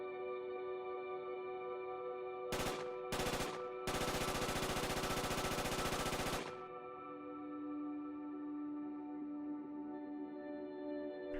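Heavy machine gun in the game Project Reality fires a short burst, then another, then a sustained loud automatic stream of rapid shots over a steady background hum, with no talk.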